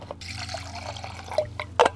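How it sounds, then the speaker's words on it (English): Water poured into a pot or kettle for camp coffee, a close liquid trickle with small drips, ending in a brief louder splash. "Let's boil some water"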